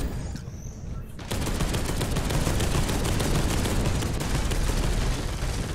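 Gunfire from a turret in the Space Hulk: Deathwing video game. A loud, sustained stream of rapid shots breaks in suddenly after a quieter second and keeps hammering steadily to the end.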